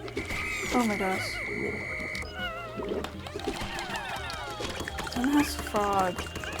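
Frog croaking in the video game Pikmin 4, several rising croaks in bursts over game music and effects, with a person talking at times.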